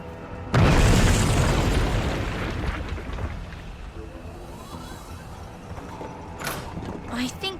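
A loud bomb blast erupts in the video game We Happy Few with a sharp onset, then a long rumbling decay that fades into quieter game sounds and background noise.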